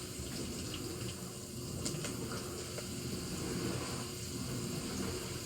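Water pours steadily into a pot while cooking vagharela bhaat, a continuous close rushing splash that holds evenly for several seconds with no voices.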